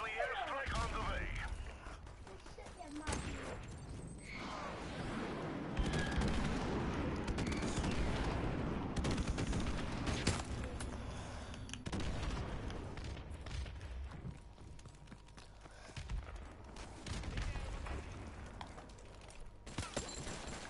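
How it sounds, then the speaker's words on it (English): Dense gunfire and rumbling explosions from a friendly airstrike in Modern Warfare Remastered roll on for twenty seconds at moderate loudness, with a chaotic mix of blasts and shots under intermittent talking. "Friendly airstrike on the way."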